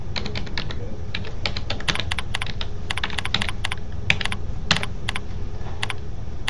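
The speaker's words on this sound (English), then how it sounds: "Here I can type for the host name the IP that I was given." Rapid keystrokes on a computer keyboard while entering a host name, a close, steady stream of light clicks with a few louder key presses and brief pauses.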